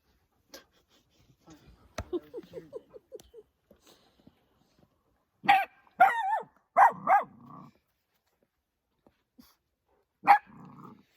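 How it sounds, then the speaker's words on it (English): A puppy barks in short bursts at another dog, a few quick yips early then louder, deeper barks and growls, with quiet gaps between them. "I don't want to say no to the barking"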